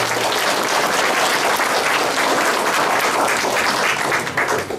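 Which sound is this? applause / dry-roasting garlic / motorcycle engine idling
applause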